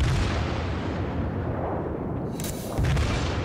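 Heavy battleship main guns boom in World of Warships, a deep, rumbling barrage that fills the space continuously, followed by a fresh burst of blasts near the end.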